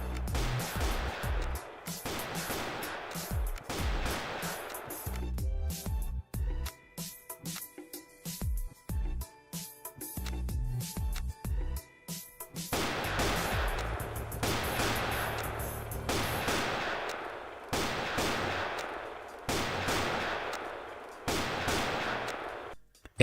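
Neo Rifle fire in the Graal video game: loud, rapid bursts of gunshots repeating across the stretch, with a short lull of lighter clicking and mechanical sounds in the middle before heavy firing resumes.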